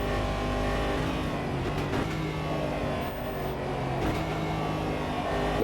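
Race car engine in the Automobilista 2 video game drones steadily at moderate loudness, with slight pitch shifts as speed changes and no talking.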